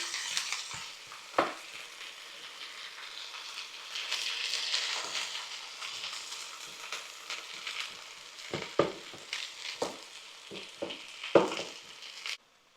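Sausages, eggs and baked beans cooking in a pan, with a steady soft sizzle throughout and intermittent scraping and clinking knocks from stirring, several sharp taps clustered toward the end.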